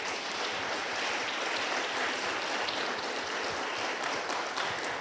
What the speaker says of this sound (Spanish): ¿Cuántos le dan palmas a Dios?